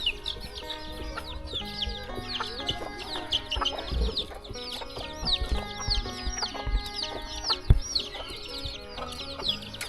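Chickens cluck busily and repeatedly around a rural Thai village in the evening, a flock of mixed near and farther calls with occasional louder squawks over soft background rustle, no talking.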